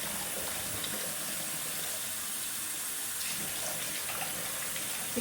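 Colour-fixing solution poured into water for fabric dyeing, heard as a steady, continuous splashing and trickling of liquid at close range, with no talking over it.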